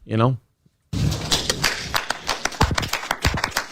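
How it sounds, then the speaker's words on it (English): Applause from people attending a school board meeting: a burst of scattered, sharp claps that comes in after a short silence and keeps going unevenly, with voices over it. "I like how everyone's applauding."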